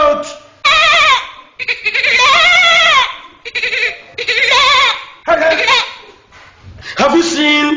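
A person imitates a goat's bleat with loud, wavering, nasal cries in several separate bursts, each trembling and drawn out, close and forceful with short pauses between and laughter-like breaks.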